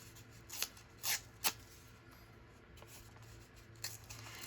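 Paper being torn by hand into a flower leaf shape for a craft project, heard as a few faint, short crisp rips spaced apart over quiet room noise.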